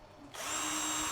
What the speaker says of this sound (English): I'm going to try and make this little gap for the cable to run through